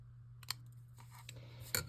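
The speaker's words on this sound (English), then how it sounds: "I'm just going to cut off, trim some of the ends" A few crisp scissor snips cut through paper, sharp and close, with a steady low hum underneath.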